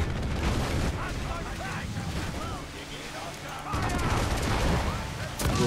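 Heavy cannon fire during a naval battle in Assassin's Creed 4 rumbles in dense, overlapping booms and crackling blasts, loud and continuous with a brief lull midway before swelling again.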